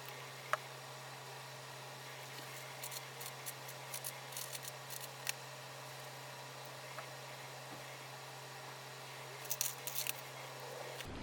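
Scissors snip away rotting roots from a houseplant being moved to LECA hydroponics, giving faint, sparse clicks and cuts spread over a quiet room hum, with a brief cluster of sharper snips near the end.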